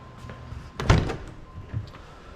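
A car door on a Jeep Rubicon with a Hemi engine swap shuts with one solid, close thump, then a couple of softer knocks as the sound settles.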